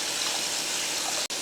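Water is poured into a pan of sautéed masala while cooking egg biryani, about 1.5 cups per cup of rice. It makes a steady, close gushing splash with a brief break near the end.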